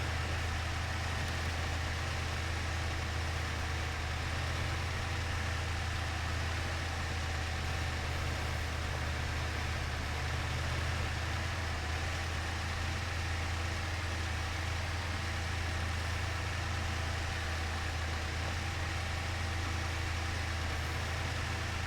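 A kei truck's small engine idles steadily in a video game, a low, even drone holding at constant volume throughout with no voices over it.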